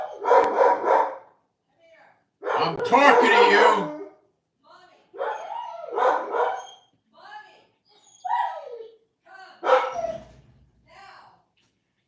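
Several dogs bark in bursts at a cat in the yard, loud and near, with sharp yips between; a voice speaks over and between the barking.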